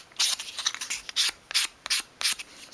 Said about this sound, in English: finish that off in my hand with a piece of fine grade sandpaper